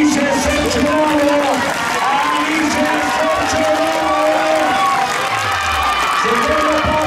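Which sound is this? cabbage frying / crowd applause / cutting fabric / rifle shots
crowd applause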